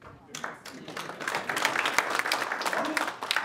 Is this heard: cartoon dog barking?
no